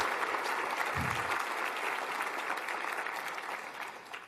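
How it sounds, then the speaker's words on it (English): Audience applause for Alicia Moore, director of Mentor Greater Milwaukee, at a 2019 summit: a dense, steady wash of many hands clapping that holds at an even level, with a brief low thump near the start. "she deserves a round of applause"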